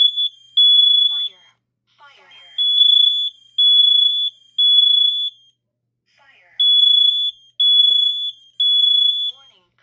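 A smoke alarm sounds during a system test, giving repeated loud, piercing high-pitched beep bursts in a steady pulsing pattern with brief gaps, close by and alone.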